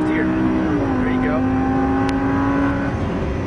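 A Lamborghini Gallardo LP570-4 Superleggera engine drones loudly from inside the cabin on track, its pitch dropping as it shifts up and then climbing steadily again under throttle.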